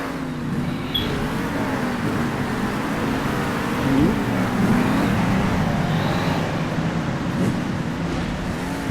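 A monster truck engine in Monster Jam: Steel Titans drones loudly and continuously, with its pitch rising and falling as it revs.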